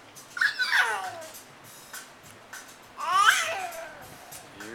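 Young child imitating a cat, with two drawn-out rising-and-falling meow-like wails separated by a short pause and faint background noise.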